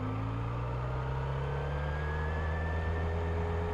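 A motorcycle engine steadily climbs in pitch as the rider accelerates in second gear after the shift, a continuous even whine and drone heard close and alone without talk.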